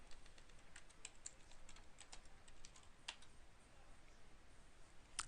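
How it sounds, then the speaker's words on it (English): Keys tapped on a computer keyboard while entering a username and password, a run of quick, light clicks at an uneven pace over a low background hiss, with no voices. "I'm going to type in my username and password"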